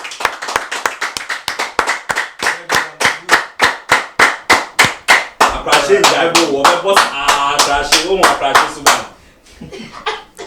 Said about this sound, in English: I want everybody to stand up and clap for Honorable Sam George.